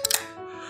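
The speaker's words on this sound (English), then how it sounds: "that's the sound of me opening a can marked XXX" A can is opened with a few quick sharp clicks and a short burst of hiss, followed by a faint fizzing trail, close and isolated.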